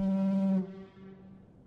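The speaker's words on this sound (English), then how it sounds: "Let's go shut off this foghorn again." A lighthouse foghorn in The Lightkeeper video game blares as a loud, steady low tone, then cuts off and leaves a fading echo.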